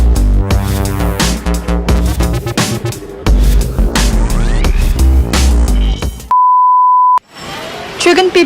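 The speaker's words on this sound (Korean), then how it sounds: "최근 삐삐는 놀라울 만큼 빠른 속도로 10대 청소년들 사이를 파고들고 있습니다" A steady electronic pager beep sounds alone for under a second, a clean single tone cutting through loud background music.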